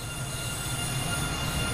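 Steady rolling rumble of a train running in the rail simulation game Train Sim World 2, on a German route, with continuous low wheel and track noise and a faint high squeal, close and unbroken.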